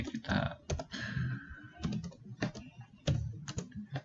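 Keys tapped on a computer keyboard, a quick run of close, crisp clicks and presses in irregular rhythm with no talk over them.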